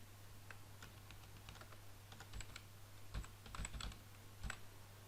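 Typing on a computer keyboard while coding HTML, sparse quiet key clicks in small bursts over a low steady hum, no voice heard.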